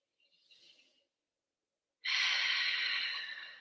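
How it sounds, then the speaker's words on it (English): Slow mindful breath: a soft, faint inhale through the nose, a short pause, then a louder, longer airy exhale through the mouth that fades out, with no talking. "Breathing in through the nose and out through the mouth."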